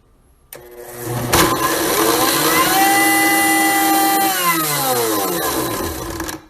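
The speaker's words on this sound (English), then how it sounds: "Toss all those ingredients into your blender and hit a random button." A kitchen blender runs loud and steady for about six seconds after a brief start, its motor whine climbing then dropping in pitch as the ingredients churn, before cutting off.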